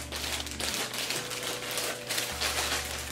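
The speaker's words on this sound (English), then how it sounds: "Let me grab my scissors and let's cut these things open." Scissors cut open plastic-wrapped flower packaging up close, a steady run of crisp snipping and crinkling rustles with no speech over it.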